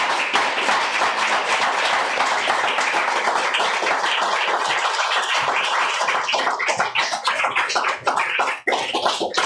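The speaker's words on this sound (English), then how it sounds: "Another round of applause for Erica and for all of our poets." Audience applauding at a poetry book launch, dense steady clapping from many hands that thins slightly toward the end.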